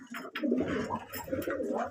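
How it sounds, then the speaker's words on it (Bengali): A chocolate-coloured doma pigeon at a Madras pigeon loft coos steadily and close, its low throaty warbling rising and falling without a break. "দেখিয়ে দিই এই যে চকলেট দোমা পায়রা"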